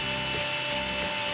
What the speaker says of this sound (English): And now I'll put the old screw in.